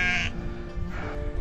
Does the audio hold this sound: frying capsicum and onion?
no